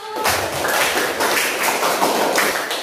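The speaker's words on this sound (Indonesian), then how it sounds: "tepuk tangan untuk kelompok 1" Classroom of Indonesian students claps for a student group after a presentation, a close, loud burst of scattered hand clapping that begins abruptly and continues evenly to the end, without talk.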